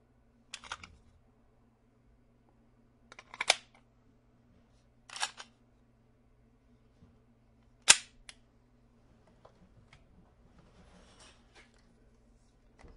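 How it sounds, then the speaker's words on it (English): Smith & Wesson SD9 9mm auto-loading pistol firing four sharp, isolated shots spaced a couple of seconds apart, each a crisp snap with a short tail, followed by faint scattered clicks against quiet background. "9mm auto-loading pistol."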